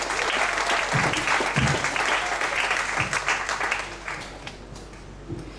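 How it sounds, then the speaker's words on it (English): An audience at a comedy night in Ubud, Bali applauds a comedian as he is introduced, with dense, loud clapping and a few whoops that gradually thin out toward the end. "So please give him a round of applause."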